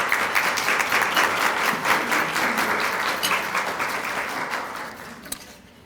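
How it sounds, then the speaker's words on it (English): Audience applause for women employees honored at a Women's History Month recognition event, steady dense clapping from a crowd that holds for several seconds and then thins and fades. "Let's give these ladies a round of applause."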